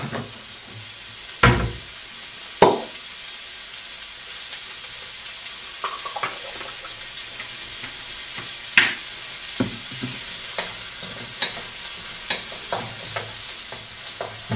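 Chilli fries in a pan with a little added oil and cumin, giving a continuous close sizzle broken by several sharp scraping knocks of stirring at irregular intervals, with no talk.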